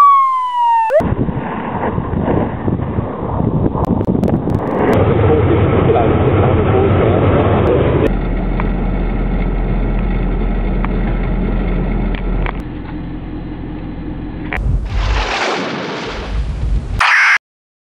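A Victoria Police Ford FPV GT interceptor car roars past loudly, its engine and siren blending into a dense, shifting wail that changes pitch and intensity over about seventeen seconds.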